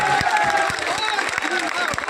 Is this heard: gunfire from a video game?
no